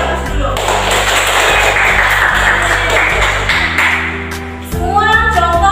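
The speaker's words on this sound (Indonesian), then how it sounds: "Beri tepuk tangan atas dulu" Children in a classroom lesson clap together, a scattered rhythmic patter of small hands under steady background noise, with a tonal musical backing and a brief shift in sound near the end.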